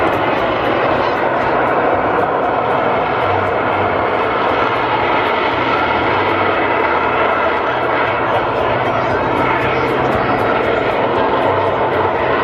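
Aerobatic aircraft performing over the promenade at the Blackpool Air Show, a loud, continuous engine roar and rushing drone filling the whole stretch with no breaks, as if passing close overhead.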